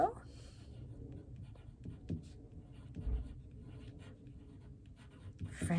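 A pen scratches across a handmade Valentine's Day card in close, soft, intermittent strokes, with quiet pauses between bursts of writing.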